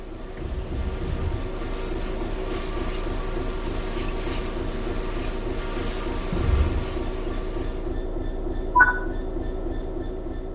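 A diesel train in Train Sim World 4 brakes to a stop, with rails and wheels squealing in a high drawn-out whine over rolling rumble, ending in a short sharp screech.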